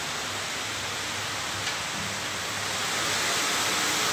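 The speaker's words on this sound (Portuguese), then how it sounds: "muita chuva aqui em Recife, viu? Começou agora" Heavy rain pours steadily over Recife, a dense, continuous hiss that swells slightly toward the end, with no voices over it.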